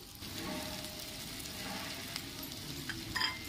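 Chilli powder, coriander powder and cumin powder sizzle in hot oil in a pan while being stirred, a steady close frying hiss with a few scraping clinks near the end and no talking.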